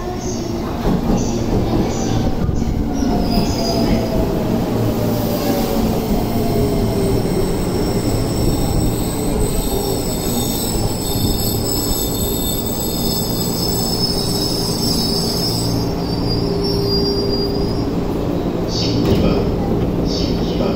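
A JR Keiyo Line 205 series 5000 electric train rumbles steadily between Shin-Kiba and Tokyo with high metallic wheel squeal running over the top, and a recorded Japanese announcement voice is faintly audible under the noise.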